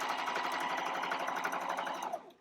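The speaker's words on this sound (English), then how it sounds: "when you're just top stitching, you do not have to back stitch" A sewing machine runs steadily at close range, top stitching along the fabric of a wet bag in one continuous fast burst that slows and stops at the end.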